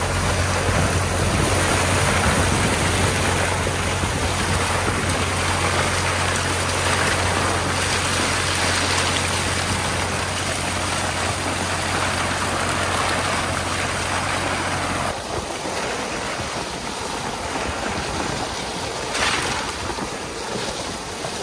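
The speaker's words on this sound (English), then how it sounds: "The oysters get washed off the deck using this massive hose." Loud, steady rush of gushing water from a large hose driven by a diesel water pump washing oysters off a boat deck, over the constant drone of the engine, continuous throughout with no talking.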